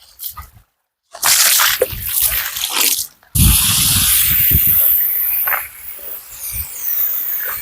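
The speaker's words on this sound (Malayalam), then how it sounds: "വണ്ടിക്കകത്ത് മുഴുവൻ നമുക്കിപ്പം വെള്ളം ഒഴിക്കാം" Water sprays forcefully over a car in loud hissing bursts, starting and stopping with brief pauses, splashing close by.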